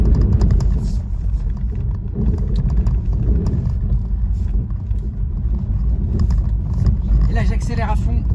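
Rear-wheel-drive Tesla on winter tyres accelerating and sliding on a snowy road, a steady low road and tyre rumble filling the cabin while someone talks over it.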